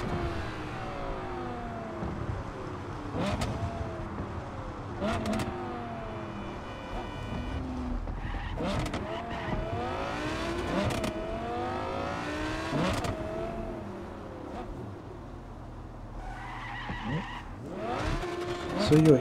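A car in the video game Cyberpunk 2077 (2.0 with Phantom Liberty) being pushed hard, engine revving and tires squealing through repeated skids over about nineteen seconds, loud and continuous, with a voice talking over it.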